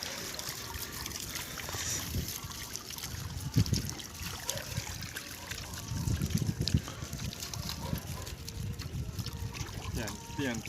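Water sloshes and splashes continuously as a net is hauled in through a fish pond, with bursts of heavier churning from the fish, set against a steady wash of background noise.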